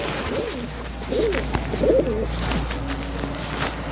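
Several white-eyed pigeons coo in repeated low, rolling phrases at close range as they arrive, with no voices over the calls.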